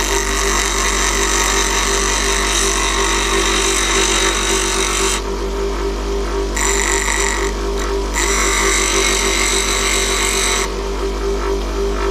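A woodturning tool being sharpened on a powered grinder, with a loud, steady motor hum throughout and a bright, hissing grind that cuts out twice and returns as the tool is lifted from the wheel and set back against it.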